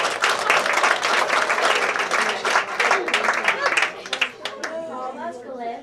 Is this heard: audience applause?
yes